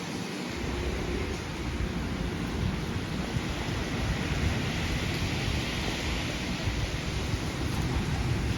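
Heavy rain pours steadily over flooded houses beside a bypass road, a dense, even roar with no break and no voices.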